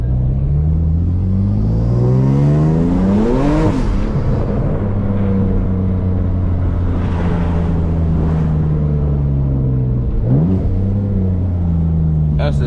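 A manual BMW F80 M3 does donuts with its engine revving hard up and down in strong harmonic sweeps, loud and close, with tire and exhaust roar and a couple of sharp throttle blips.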